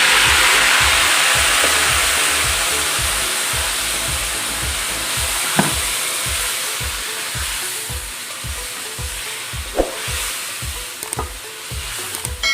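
Marinated chicken fries with onions in a pan for chicken masala, giving a loud, continuous sizzle with a steady rapid rhythmic clatter of stirring and a few brief sharper scrapes.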